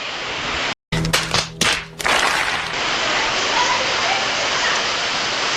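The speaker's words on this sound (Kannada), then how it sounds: "ಮಳೆ ತುಂಬಾ ಜೋರಾಗಿದೆ ನೋಡಿ ಗೈಸ್" Heavy rain pours down in Shimoga as a loud, close, continuous hiss, briefly cut and bumped by a few sharp handling knocks near the start before it settles into a steady downpour.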